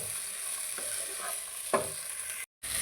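Long beans tossed with ground pepper in a pan for a Kerala achinga thoran give a soft, continuous sizzle, broken by a single scrape of the spoon against the pan and a brief cut near the end.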